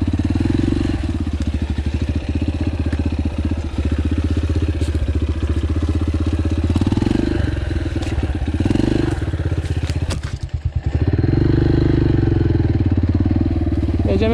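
A Yamaha TTR 125L dirt bike rides over sandy enduro terrain, its engine droning loud and steady close to the rider with clattering and a brief dip in revs near the end.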